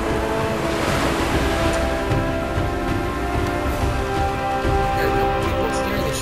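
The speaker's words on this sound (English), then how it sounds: "Here's the boat, the ship, rather, on the sea." Sea waves washing around a ship in the video game Gothic 3, a continuous loud rushing surf with wind-like noise and a low rumble, steady throughout.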